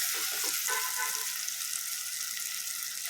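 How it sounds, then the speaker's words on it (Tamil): Tomatoes sauté in a hot pan for Chennai-style mutton biryani, giving a steady, close, bright sizzling hiss that runs unbroken through the clip, with a few soft stirring knocks near the start. "தக்காளியை வதக்கலாம்."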